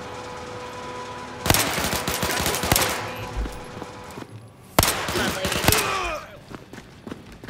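Bursts of video game gunfire from The Walking Dead, two loud volleys of rapid shots with sharp single reports between them, over a steady background hum.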